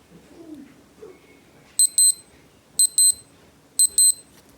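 Three bursts of rapid high electronic beeps from a Casio DB-E30 digital wristwatch alarm, each a quick double chirp, repeat about once a second over faint background noise.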